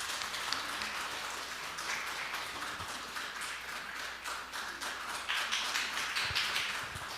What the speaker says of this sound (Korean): 세영이 우리가 다 축하하는 거니까 우리 박수로